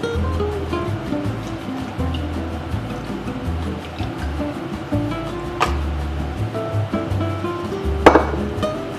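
Water is poured into a jar to feed a sourdough starter for croissants, making a continuous rushing splash with a few light clinks of glass near the end.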